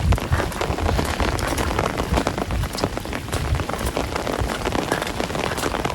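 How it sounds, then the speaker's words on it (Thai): Heavy rain that has fallen through the night and into the morning, a dense, loud, continuous patter of drops on surfaces close by. "ว่าฝนมันตกเติมเลยอยู่"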